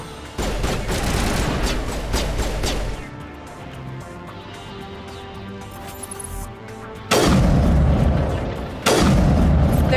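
Heavy gunfire during a firefight in the Mass Effect video game: dense bursts of loud shooting and booms at the start, a quieter stretch, then renewed loud volleys near the end, with no talk.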